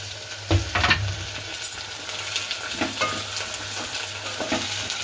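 Tomato pieces frying and sizzling in a pan, with steady crackle and a few louder stirring bursts near the start and later, close and alone with no talk.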